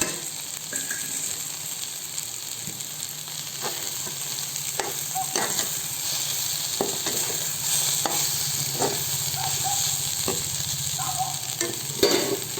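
Okra sizzles and fries in a pan as a spoon stirs it with grated coconut, a steady close crackle broken by repeated scraping and tapping strokes.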